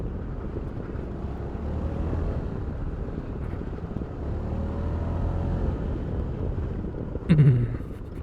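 A Honda Forza MF17 scooter accelerates with the engine revving up, a moderate steady drone mixed with wind rush, and a short sharp knock near the end.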